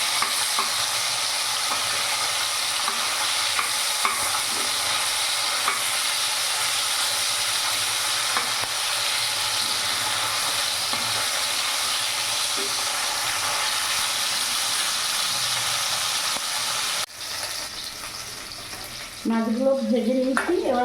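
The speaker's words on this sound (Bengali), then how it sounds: "মাছটা এক পিঠ ভাজা হয়ে গেছে, আমি এখন আরেকটি উল্টিয়ে দেবো।" Leta fish frying in a pan of hot oil gives a steady, close sizzle with stirring and spattering; the sizzle drops briefly as a piece is flipped near the end, then picks back up.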